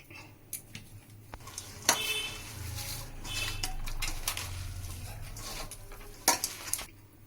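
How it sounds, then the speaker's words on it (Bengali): Boiled potatoes mashed by hand into softened salted cabbage for cutlets, giving soft squelching and pressing sounds with occasional clicks of a bowl or utensil, fairly quiet and close, with no talk. "এবার আমি এর সাথে আলুগুলো ম্যাশ করে দিচ্ছি"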